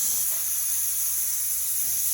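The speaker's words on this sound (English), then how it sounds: "You can see all the steam that's going to come out." Steam hisses steadily out of a pressure canner used for green beans on a stovetop, a loud, continuous bright rush without pauses, close by and alone.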